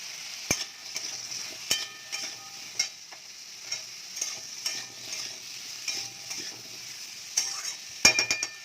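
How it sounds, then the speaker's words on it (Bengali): Bottle gourd greens fry in a pan with salt and turmeric, giving a steady soft sizzle broken by regular scraping and clinking stirring strokes, heard alone and fairly faint. "এটা ততক্ষণ ভাজা হবে, তারপর আবার আসছি।"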